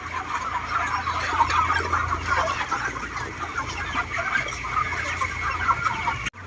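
Dense clucking from many chickens inside a poultry farm shed in Israel, a steady overlapping chorus at close range with a low hum of ventilation or machinery underneath, continuing without pause until it cuts off abruptly.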